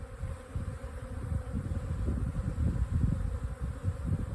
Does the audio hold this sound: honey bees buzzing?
yes